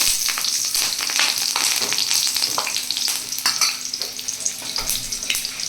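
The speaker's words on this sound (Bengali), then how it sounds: "কড়াইয়ে সাদা তেল দিলাম, একটু কালো জিরে আর কাঁচা লঙ্কা দিয়ে" Nigella seeds and green chili frying in white oil in a kadai, a dense crackling sizzle with sharp popping spatters and stirring scrapes, close and steady without speech.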